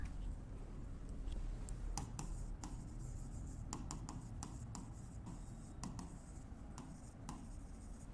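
Marker or chalk writing figures on a board during an accounting lecture, steady scratchy strokes with sharp taps and clicks over a low room hum.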